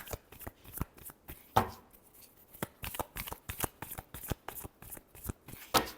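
Tarot cards being shuffled by hand, a steady run of crisp riffling snaps and taps close up, evenly spaced with a few sharper slaps, with no talking.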